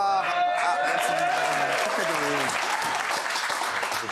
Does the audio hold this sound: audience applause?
yes